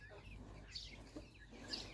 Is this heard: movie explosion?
no